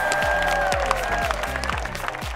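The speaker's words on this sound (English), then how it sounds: "Let's give all these great artists a big round of applause" Clapping from a festival fashion show audience honoring the artists, a brief run of steady applause layered over a pulsing low beat.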